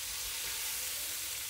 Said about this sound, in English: that's more of the sizzle I was wanting, kind of a higher sizzle